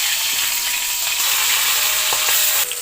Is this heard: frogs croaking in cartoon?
no